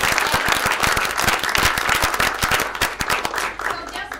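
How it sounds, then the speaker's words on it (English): Audience applause at a school board meeting for Howard School students, a dense, steady wash of many hands clapping close by, with a few sharper individual claps standing out and some faint voices underneath throughout. "if you would join me again in giving these young people a round of applause."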